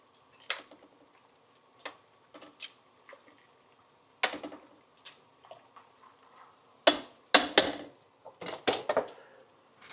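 A spoon stirs a tuna dish in a cooking pot, giving scattered light clinks and taps against the metal. The clinks fall sparsely at first and then cluster into a busier run of knocks near the end, with no voices.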